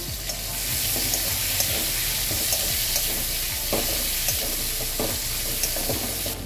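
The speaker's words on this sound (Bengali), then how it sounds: "পেঁয়াজ কুচিয়ে রেখেছিলাম, এর মধ্যে পেঁয়াজটা দিয়ে দিচ্ছি" Chopped onion hitting hot oil with fenugreek and bay leaf, a steady loud sizzle with intermittent stirring scrapes and clicks throughout, close up and without talk.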